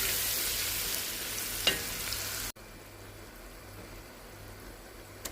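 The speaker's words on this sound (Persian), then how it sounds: "یه مقدار قارچ خورد کردم، شستم میریزم توی پیازا، سرخش میکنم." Mushrooms and onions sizzle steadily in a pan, a constant crackling hiss that drops suddenly quieter halfway through.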